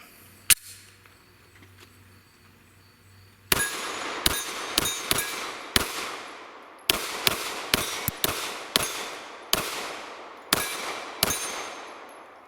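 A Springfield Hellcat pistol fires about a dozen sharp shots at steel targets, each crack followed by a ringing metallic clang, spaced irregularly at roughly half-second to one-second intervals after a single earlier shot and a pause.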